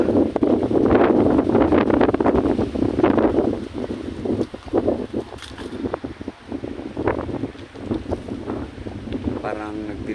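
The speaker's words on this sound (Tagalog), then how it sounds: "Napakalamig ng hangin." Strong cold wind buffets the microphone outdoors at a memorial park in Buhangin, Davao City, with loud rumbling gusts that ease and return, while a person talks through parts of it.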